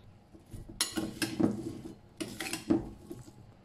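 Oiled asparagus stirred in a pan, with utensil scrapes and clinks against the metal in two bursts of clattering, close and moderately loud with no talking.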